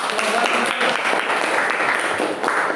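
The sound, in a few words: classroom applause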